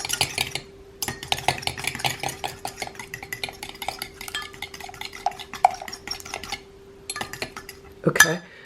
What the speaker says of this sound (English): I'm going to stir this into the egg.